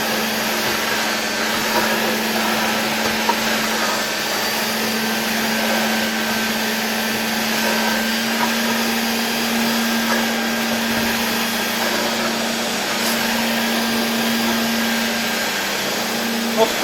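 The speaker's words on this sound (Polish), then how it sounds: "Odkurzacz rzeczywiście bardzo fajnie, jak taki malutki poduszkowiec, przesuwa się delikatnie nad powierzchnią stołu." Hoover Constellation 867A vacuum cleaner running on a table at reduced voltage: a steady, loud motor whine with a strong constant tone, lasting the whole time without pause, while a voice talks over it now and then.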